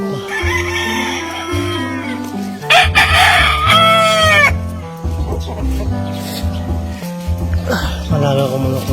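A rooster crows loudly and close among backyard chickens that keep clucking around it, with a person talking over the flock.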